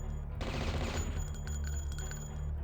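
Gunfire from the video game Blood, a burst of rapid shots that starts abruptly and rolls on loud and dense, with a ringing echo over a steady low rumble.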